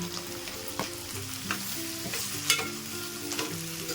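Tomato curry fries in a pan, a steady sizzle punctuated by regular spoon scrapes and taps roughly twice a second, close and moderately quiet.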